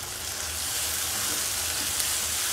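Aloo dum potatoes are stirred in a hot pan with tamarind pulp and coriander leaves, giving a steady close sizzle and frying hiss with faint scraping of the stir, no talk.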